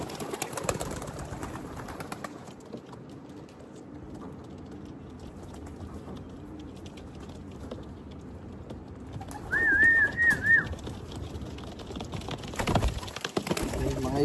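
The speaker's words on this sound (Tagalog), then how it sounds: "Yan sila, ito yung mga ibon." Pigeons coo and call outdoors at a racing pigeon release over a steady background hum, with a brief warbling call standing out near the end and some faint voices in between.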